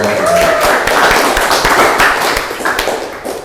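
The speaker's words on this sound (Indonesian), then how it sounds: "Ya, tepuk tangan." A vocational high school class claps hands together after chanting cheers in a classroom lesson, a loud, uneven burst of individual claps that thins out toward the end.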